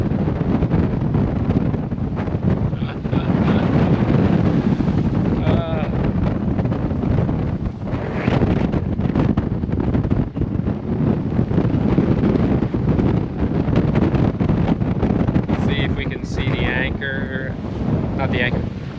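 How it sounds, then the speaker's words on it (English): Strong wind roaring steadily across a sailboat at anchor at sea, a constant loud buffeting rush against the microphone with faint creaks and rattles, while a person talks over it. "the wind's just come down a little bit"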